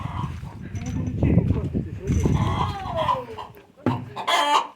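A hen clucks and squawks close by while a person talks over it, with a short burst of sharper cackling near the end.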